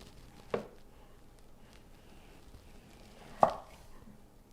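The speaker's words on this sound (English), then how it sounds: "Now that we peeled the squash, I'm going to cut it in half." A knife cuts through a peeled, microwave-softened squash in two distinct, muffled chops against a cutting board, quiet and close with a faint room hum between.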